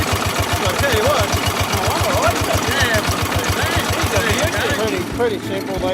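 A small old engine with a little piston water pump circulating cooling water chugs steadily and loudly in a fast even beat, slowing and faltering near the end, while a person talks over it.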